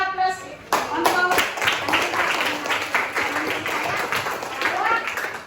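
Applause from a primary school class for a student, a burst of many small hands clapping briskly and unevenly for several seconds, with some children's voices mixed in.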